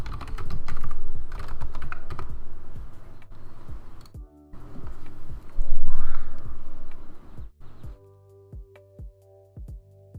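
Rapid typing on a computer keyboard, close and clear, with bursts of quick key clicks that pause, resume, then thin out into a few scattered taps near the end.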